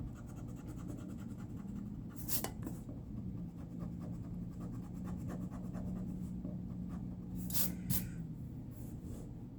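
A pencil drawing for a fantasy comic is erased with faint, close, scratchy rubbing strokes that come in short clusters over a low, steady background hum.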